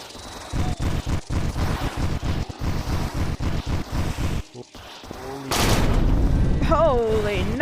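Rapid bursts of gunfire from a VR zombie-shooting game ring out in a steady rhythmic volley, loud and close, then give way to a louder, rushing noise with shouting voices over it.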